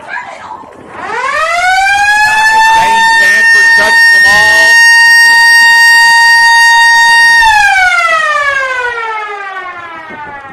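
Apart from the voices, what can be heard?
siren at a ballpark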